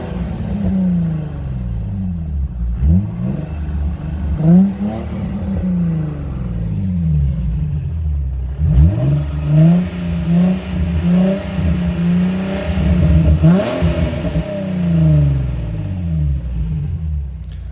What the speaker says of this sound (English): What I'll do is I'll kind of rev it up a little bit and let you hear for it yourself.